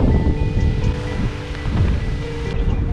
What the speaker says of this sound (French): vraiment beaucoup de vent